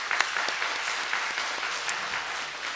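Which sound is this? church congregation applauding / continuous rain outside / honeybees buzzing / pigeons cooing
church congregation applauding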